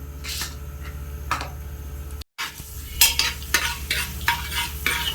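Chana dal frying in oil in a pan, a steady close sizzle with crackling bursts and repeated scraping strokes of a spoon stirring, growing busier after a brief dropout, with no talking.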